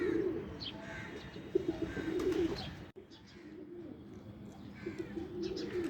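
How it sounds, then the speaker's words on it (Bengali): Pigeons coo in soft, repeated throaty bursts on a rooftop while feeding and walking about, close by and gentle, with faint ambient noise in between. "ছাদে আসলাম, কবুতরগুলো খাচ্ছে, ঘুরতেছে"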